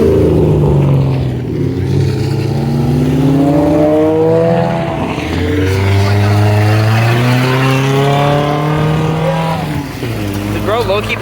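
Car engine revved hard at an airport car meet while pouring out white smoke: loud, sustained high revs rising and dropping in waves, close by, with a brief dip before climbing again.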